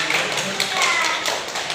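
Classmates in a primary school classroom give a quick burst of hand clapping, close and brief, with light chatter mixed in.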